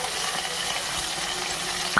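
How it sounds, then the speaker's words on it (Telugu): Chana dal, mustard seeds, cumin and curry leaves frying in hot oil for a tempering, a steady close sizzle and crackle throughout with a small sharp pop at the very end. "మంచిగా ఫ్రై చేసుకోవాలి."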